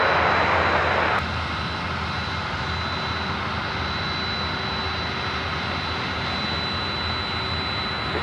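A Q400 turboprop airliner on the runway at Sydney airport, its engines giving a steady, fairly loud broadband roar that holds throughout, with a brief brighter burst at the very start.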